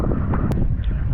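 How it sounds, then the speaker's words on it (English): Wind rumbles against the microphone in an exposed anchorage in Fiji, a brief, loud, low buffeting with no talking. "we're in a much more exposed windy area here."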